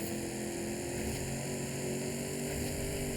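A diesel drift truck's engine drones steadily in Forza Horizon 5, a constant loud mechanical hum with a low rumble that stays even for the whole few seconds.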